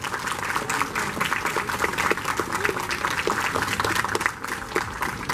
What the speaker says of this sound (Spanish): Vamos a empezar entonces con los aplausos por nuestra cosplayer.